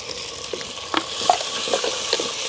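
Onions, green chillies, curry leaves and tomatoes fry in a pan while being stirred, a close continuous sizzle broken by quick scraping and clinking strokes.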